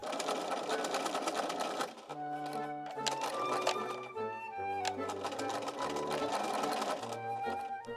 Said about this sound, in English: I was only able to flat fell this seam by machine